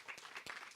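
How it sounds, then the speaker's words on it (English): Conference audience applauding after closing remarks, a short burst of dense clapping from a hall crowd, fairly close and steady for under a second. "Give yourself a round of applause"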